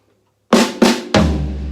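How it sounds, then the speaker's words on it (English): A low floor tom is struck three times in a quick triplet figure, each hit booming close and loud, the last note left to ring out. "I am going to use my lowest tom,"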